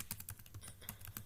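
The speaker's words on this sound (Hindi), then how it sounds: "कंट्रोल एंटर किया" Keys pressed on a computer keyboard while entering a purchase in Tally Prime: a quick, uneven run of close, crisp plastic clicks and taps, with no voice.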